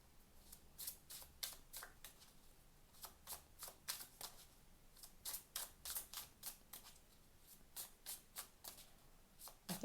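Slippery tarot cards are shuffled by hand in rapid bursts of crisp riffling flutters, repeated in a steady rhythm close to the microphone in a quiet room.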